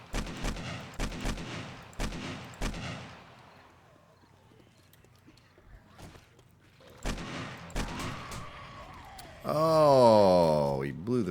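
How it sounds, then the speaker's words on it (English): Sniper rifle gunfire in the survival game 7 Days to Die, aimed at a zombie cop and a feral: a quick run of sharp, loud shots, a quieter lull, then more shots followed by a warbling tonal sweep. "Couple shots to the head with the old sniper rifle."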